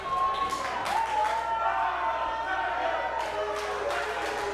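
A wrestling crowd at a live tag team event cheers and roars steadily throughout, a dense wash of voices with whistles and shouts rising near the end.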